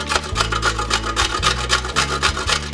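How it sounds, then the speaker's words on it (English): Carrots grated on the big holes of a box grater, a loud, close, rhythmic rasping with about ten quick strokes, steady and unaccompanied. "You're gonna get the side with the big holes and you're gonna just start grating."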